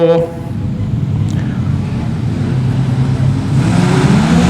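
Modified sedans race at a speedway heat. Engines roar from a distance and swell toward the end, while an announcer talks over the track noise.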